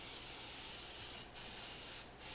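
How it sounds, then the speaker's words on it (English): Cooking spray from an aerosol can hisses steadily onto a cake pan for a tres leches cake, one long continuous burst with two brief pauses as the nozzle is released, close and fairly loud with no talking. "Make sure you spray all over the sides."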